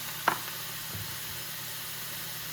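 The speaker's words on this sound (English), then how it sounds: "see how it's sizzling. How it's changing." Tacos fry steadily in a hot pan, a constant hiss with a brief clink of a utensil near the start.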